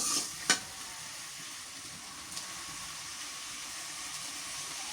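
Vegetables fry quietly with whole spices and garlic paste in a Bangladeshi village kitchen pan, a faint continuous hiss with a single sharp clink near the start.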